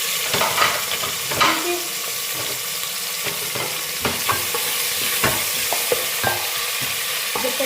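Onions frying in oil in a pan for aloo gosht, a steady broadband sizzle with scattered clinks and scrapes of a utensil stirring, fairly close and continuous, with a brief spoken word.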